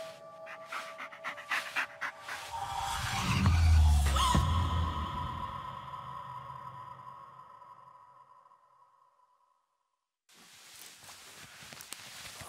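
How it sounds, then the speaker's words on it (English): Dog panting in the Blair Witch video game, rapid rhythmic breaths building loud and close with footsteps and rustling, then fading out into a brief silence before ambient noise resumes. "Just take the damn dog"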